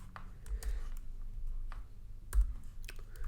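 Sparse keyboard keystrokes while someone types a line of Rust code, soft scattered clicks and short bursts over a low background hum, close and fairly quiet.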